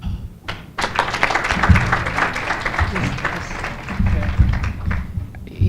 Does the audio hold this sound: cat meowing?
no